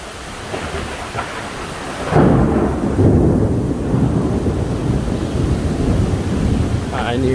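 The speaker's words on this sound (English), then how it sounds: "Pouring rain still. Close calls firing all around me." A thunderstorm with pouring rain and nearby lightning strikes: a heavy, constant downpour, with a loud close crash of thunder a couple of seconds in that rolls on beneath the rain.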